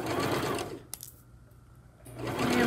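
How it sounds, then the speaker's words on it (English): A sewing machine stitches back and forth over the elastic of a fabric face mask, whirring loudly, stopping for about a second with a small click, then whirring again up close. "Backtrack, and that backtracking is just to secure the elastic in there."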